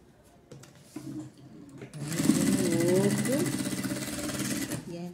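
A sewing machine runs a seam alongside a zipper on a small coin purse, starting with a few short bursts and then stitching in a steady close whir for several seconds.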